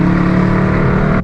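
A Dodge Charger's engine roars loud and close under acceleration, a deep continuous growl with a steady rumble that cuts off abruptly.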